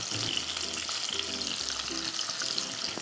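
Onions sizzling in a pan with curry leaves, a dense continuous crackle with a stirring utensil scraping in short rhythmic strokes, close and steady, no talking.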